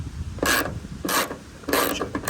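A drill fitted with a socket spins out painted 12 mm bolts on a Subaru Crosstrek during a pod light install, firing three short, loud whirring bursts close by with brief pauses between them.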